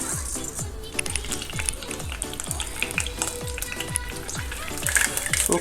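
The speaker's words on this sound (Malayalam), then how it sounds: "കടുക് പൊട്ടി കഴിയുന്നുണ്ട്" Mustard seeds sputter and pop in hot coconut oil in a pan, a dense crackling sizzle with quick sharp pops throughout, steady and close with no talk.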